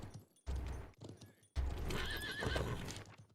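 A horse in the video game Conqueror's Blade, loud close hoof clip-clops in quick bursts with short pauses, followed by a whinny over the hooves.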